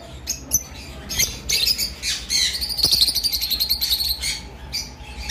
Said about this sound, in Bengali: আমাদের কাছে যে লাভ বার্ডগুলো রয়েছে, লোটিনো পিসপেস লাভ বার্ড